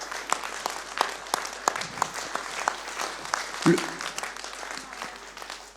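Indoor audience at an official presentation of a 2025 youth games event applauding organizers and volunteers, a sustained burst of many hands clapping at moderate loudness, with a voice briefly audible beneath it.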